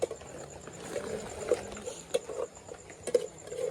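Steady patter of rain drumming on a taut tarp overhead during New Year's Eve cooking, with scattered louder drips landing irregularly among the continuous light tapping.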